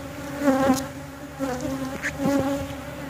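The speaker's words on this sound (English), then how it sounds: "We got some bees coming out" Honey bees buzz around a backyard hive as new bees emerge, loud near wingbeats rising and falling in several swells as individual bees pass close.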